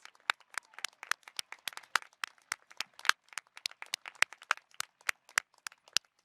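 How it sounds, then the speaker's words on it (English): Sparse, scattered handclaps from a small audience at a science school commencement, crisp individual claps at an irregular pace with silence between them. "Please join me in applauding these graduates."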